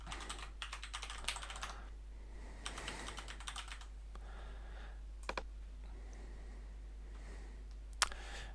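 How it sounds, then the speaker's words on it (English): Keys tapped on a computer keyboard while entering a Minecraft username and password in a game launcher, with quick bursts of close, light clicks separated by pauses and a few sharper isolated clacks. "First it's gonna ask you for your Minecraft username and password, so I'm gonna type that in now."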